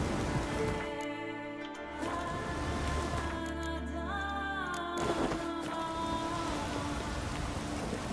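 Heavy rain pours steadily in The Witcher 3 video game, a dense, continuous hiss of drops on surfaces with a low droning tone and music-like sustained notes beneath, no talk.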